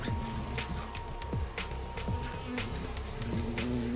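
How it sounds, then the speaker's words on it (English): Bees buzz steadily in a video game, a continuous insect drone with passing whines and occasional higher tones, no voices. "These asshole bees are back?"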